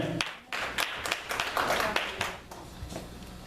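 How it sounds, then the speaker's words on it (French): A church congregation during a Sunday service claps together in lively, close applause, with scattered voices calling out among the clapping before it tails off. "On acclame pour sa vie."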